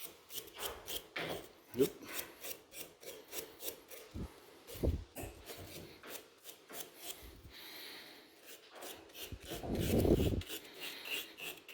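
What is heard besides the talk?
scrubbing a wooden tailstock knob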